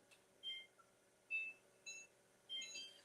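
A kitchen timer gives four short, quiet electronic beeps at a steady pace in an otherwise calm kitchen.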